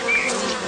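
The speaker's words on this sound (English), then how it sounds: "This bee is searching for a sweet treat, and the sugary sap of the lime tree is just too good to miss." A honeybee buzzes loudly and steadily right next to a lime tree while seeking its sugary sap, a close, continuous droning hum with no other sound.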